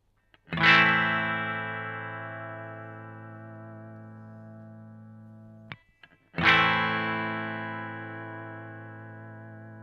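Two sustained electric guitar notes through a Boss VB-2W vibrato pedal, each struck sharply and left ringing with a pulsing vibrato that wavers as they slowly fade; a brief click sits between them.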